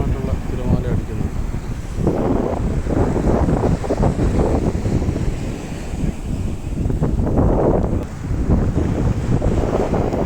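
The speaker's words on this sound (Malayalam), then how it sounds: "ശക്തമായിട്ടുള്ള തിരമാല അടിക്കുന്നത്." Strong sea waves surge and crash onto Mahboula Beach, a continuous loud roar of surf mixed with heavy wind buffeting the microphone, swelling and easing in broad waves throughout.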